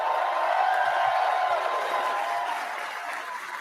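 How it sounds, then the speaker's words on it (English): Crowd applause at a political rally in Brampton, Ontario, a broad sustained wash of clapping with some cheering that fades slightly toward the end. "a round of applause for Adrian Woolley leading the charge in the entire country"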